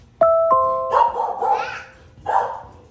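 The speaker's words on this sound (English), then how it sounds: "it'll just do a doorbell chime if it doesn't know who it is" A two-note ding-dong doorbell chime from a HomePod smart speaker rings out clearly, followed right away by a dog barking several times nearby.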